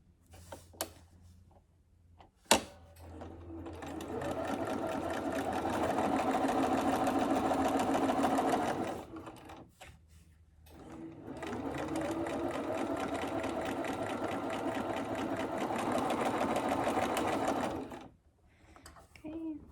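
A sewing machine stitches a folded fabric mask tie in two long, steady whirring runs separated by a brief pause, preceded by a few sharp clicks.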